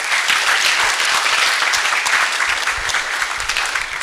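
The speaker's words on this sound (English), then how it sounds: "Can you clap for her?" Audience applause for a speaker at a freshers' orientation, a full steady round of many people clapping, close and consistent throughout with a few heavier thumps underneath.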